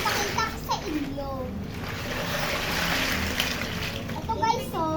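Water is poured out and splashes in a short, uneven stretch while children talk and play over it.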